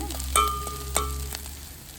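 Curry leaves hitting hot oil along with onion and dried red chillies, giving a close, crackling sizzle with a few sharp spits and a stirring clatter, and no voices over it.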